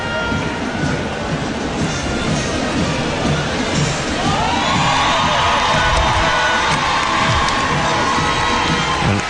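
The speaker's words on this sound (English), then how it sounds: "the public loves this display, as you can hear from the applause." A large outdoor crowd watching a police dog display on the street applauds and cheers in a dense, sustained roar, with shouts rising and a long tone sounding partway through.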